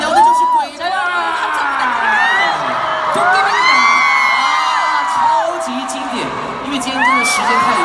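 A fan-meeting audience for actor Gong Yoo screams, whoops and cheers loudly and continuously, with rising shrieks and yells from the crowd filling the whole stretch.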